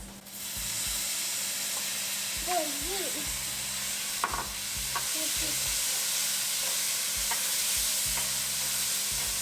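Tomatoes sauté in a pan with ginger, making a steady close sizzle broken by spoon scrapes and taps against the pan, while a voice briefly chimes in partway through.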